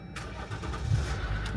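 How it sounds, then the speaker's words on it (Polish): A car engine cranks with a jump starter and catches, settling into a low rumbling idle, close by and brief. "Zobaczymy, czy uda nam się wystartować ten samochód."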